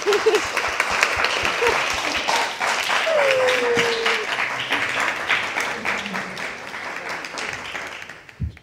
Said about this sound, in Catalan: un aplaudiment per la Samantha